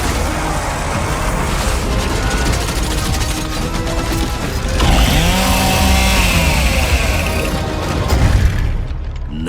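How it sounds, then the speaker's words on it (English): Chainsaw Lancer bayonet from the Gears of War game revving as it rips through a Locust, a loud, dense mechanical grinding that runs throughout, swelling midway, with game effects layered in. "From the moment that Ty grabbed that chainsaw to rip through a Locust at the Superstore"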